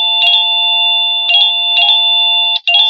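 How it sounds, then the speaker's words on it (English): An electronic doorbell chiming several times in quick bursts, loud and clear, with steady sustained tones between strikes and a brief dropout near the end. "And there's the bell for my mom."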